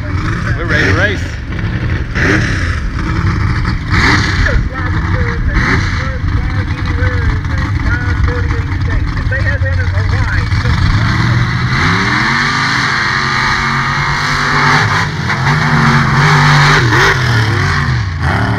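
Mega trucks race at West Georgia Mud Park, engines revving and roaring loudly in rising and falling waves while a voice talks over them throughout.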